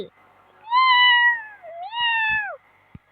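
A cat in the Sakura School Simulator video game gives two clear, drawn-out meows in quick succession against an otherwise quiet background.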